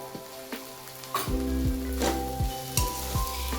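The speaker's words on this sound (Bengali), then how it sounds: "এবার এর ওপর দিয়ে আমরা কিছুটা ঘি দিয়ে দেব, অল্প পরিমাণে ঘি দেব আমরা।" Ghee sizzles and fries in a pan of cooked banana flower (mochar), a steady crackling hiss with a few stirring scrapes and knocks against the pan, close and fairly loud, no talking.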